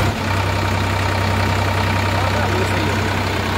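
A Sonalika Sikander DI 745 III three-cylinder, 50 HP tractor engine runs steadily and close by, a loud, constant low rumble held at high revs with no pauses.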